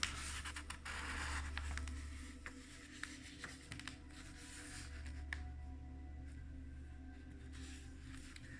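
Thick paper pages of an old 1927 illustrated King Arthur book are handled, giving soft, faint scratching and rustling with small scrapes over a quiet room hum.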